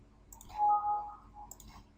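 A few sharp computer mouse clicks, close and fairly faint, with a brief brighter burst around the middle, while a 3D assembly is mated in SolidWorks in a quiet room with no talk.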